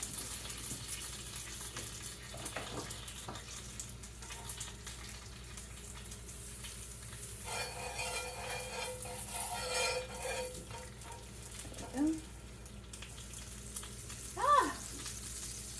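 Food sizzles quietly in butter in a pan on a home stove, a low steady frying hiss with a louder burst midway and a couple of brief clinks of a utensil near the end.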